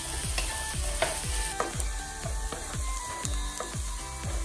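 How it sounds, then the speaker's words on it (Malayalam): Carrots and onions are sautéed in a pan for habanero hot sauce, giving a steady sizzle broken by a regular rhythm of scraping stirring strokes, close and fairly quiet, with no talk. "അതിനകത്ത് നല്ലപോലെ ഒന്ന് വഴറ്റി കൊടുക്കണം."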